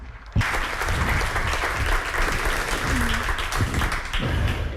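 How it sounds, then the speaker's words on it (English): An audience at a talk applauds steadily for several seconds after a speaker is introduced, a dense wash of clapping hands starting abruptly and continuing at an even, fairly loud level without speech. "A big round of applause."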